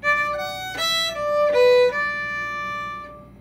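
Solo fiddle playing the closing measure of an Irish traditional tune without the ornamental cut, a few clear bowed notes with bright harmonics, the final note sustained and fading, close and alone.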